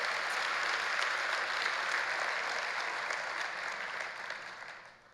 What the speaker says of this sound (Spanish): Aplaudamos los que hemos sentido la presencia del Señor aquí.